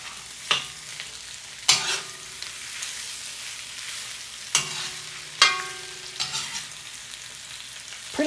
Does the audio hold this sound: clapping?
no